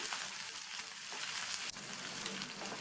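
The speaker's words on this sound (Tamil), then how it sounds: "வெங்காயத்தை லைட்டாக வதக்கியாச்சு" Chopped onion and dried red chillies sautéing in a pan give a steady, soft sizzle and crackle throughout, fairly quiet and close, with one brief faint clink partway through and no talking.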